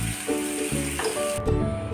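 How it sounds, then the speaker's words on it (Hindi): Boiled noodles fried on high flame in a pan give a loud continuous sizzle and hiss, mixed with clattering and scraping of a utensil and a metallic squeak, close up with no talking. "नूडल्स डालने के बाद हाई फ्लेम पर हम अपने नूडल्स को फ्राई कर लेंगे।"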